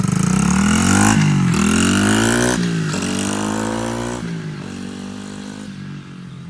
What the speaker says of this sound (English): I'm gonna show you how fast you can accelerate